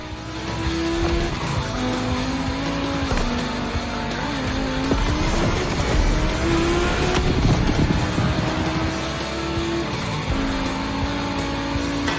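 Race cars from The Crew Motorfest roar around a track in a steady engine drone, with rising and falling revs, sharp tire squeals and skids partway through, loud and continuous with no talking.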